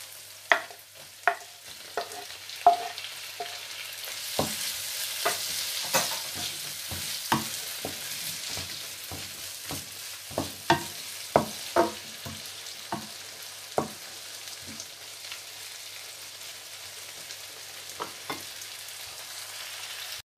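Tomatoes frying in a pan for Chettinad mutton, with repeated sharp scraping and stirring strokes over a steady close sizzle, no talking.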